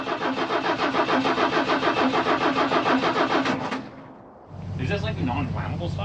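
A snowcat engine runs loud and steady with a rapid mechanical chatter, then dips as it is cranked, and catches again with a deep, rumbling idle that continues to the end.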